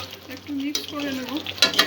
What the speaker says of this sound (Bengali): একটু মিক্স করে নেব।